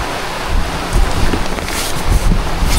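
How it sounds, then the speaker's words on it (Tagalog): Strong gusting wind buffets the microphone at a lakeside campsite in Tanay, Rizal, during low-pressure weather with rain, a loud continuous rushing roar with rising gusts and no voices. "Kaso ang lakas talaga ng hangin."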